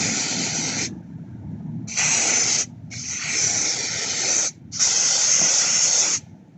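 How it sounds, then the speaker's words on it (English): Holding spray misted onto a hair weave in four close, sharp hissing bursts, each lasting about a second with brief pauses between them. "I'm gonna try to use the holding spray"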